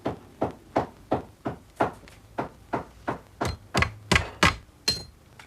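A hammer drives a tack through flax linen into the high front pommel of a handmade saddle, about fourteen sharp, evenly spaced strikes, growing slightly louder and crisper toward the end.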